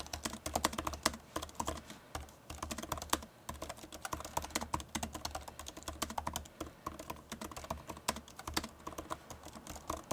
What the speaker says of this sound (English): Here's a quick type test for those who are interested.